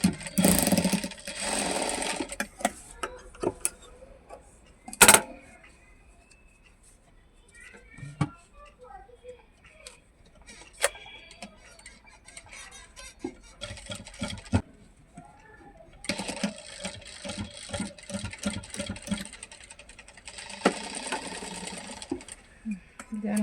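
A sewing machine stitches a fabric bow design in short whirring bursts separated by pauses, with a person talking in between and near the end, close up.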